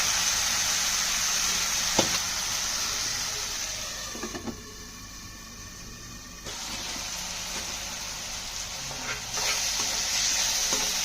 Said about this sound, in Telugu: ఇది కొంచెం వేయించుకోవాలి బాగానే